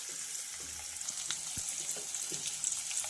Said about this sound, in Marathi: तर आता बारीक चॉप केलेला कांदा घालूया।